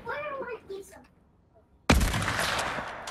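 A hunting rifle in Fortnite fires one loud, sharp shot that rings out and trails off in a long echo, following a moment of quiet after a voice talks.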